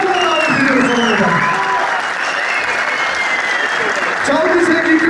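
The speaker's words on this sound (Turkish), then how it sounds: "Yazar ve yönetmeni Sayın Selçuk Erdemir'i alkışlara davet ediyoruz onlara." A gala audience in İzmir applauds the writer and director at a film premiere, with loud, sustained, close clapping and a few cheers that continue without a break.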